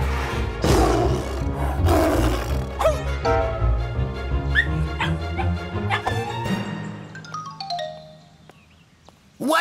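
A cartoon lion lets out loud, rough roars over a busy animated soundtrack with dog-like barks and whimpers, the noise dense and sustained before thinning out near the end.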